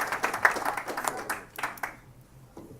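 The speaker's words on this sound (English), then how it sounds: "Big round of applause up to the dais for Nico Hernandez." Press-conference audience applauding a boxer stepping up to the dais, scattered individual claps at moderate volume that thin out and fade within a few seconds.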